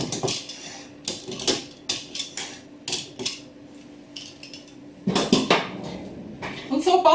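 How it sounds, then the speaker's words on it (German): A fork pricks holes in chilled shortcrust pastry dough for a sour cream tart, giving a run of quick close taps and clinks against the tin, with a louder clattering burst near the end. "Jetzt noch mal ein paar Löcher reinstupfen."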